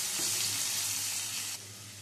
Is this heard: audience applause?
no